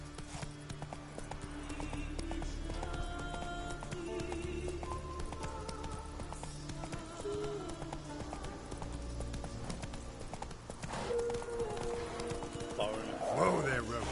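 Horse galloping in The Witcher 3 video game, a rapid rhythmic clip-clop of hooves mixed with game music and ambience, with voices speaking near the end.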